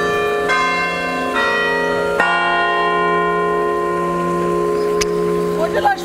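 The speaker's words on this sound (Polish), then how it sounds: "Tym oto symbolicznym dzwonem sanktuarium Bon Jésus" A large sanctuary church bell at Bom Jesus in Braga, Portugal, rings close by, struck several times with long, ringing tones that overlap and hum on between strikes.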